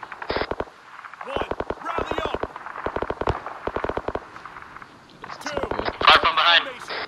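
Gunfire in the video game Arma 3, with clustered bursts of rapid shots in several volleys separated by short gaps. A louder, denser burst comes near the end.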